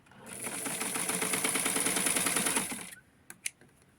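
A sewing machine stitching Barbie doll clothes runs in a steady rapid mechanical whir with even needle clatter for under three seconds, then stops, followed by a couple of sharp clicks; close, no talk.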